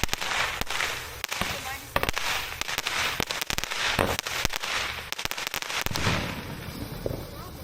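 A firework going off outdoors, with dense crackling bursts and sharp pops crowding the whole stretch, loud and close, while voices talk underneath.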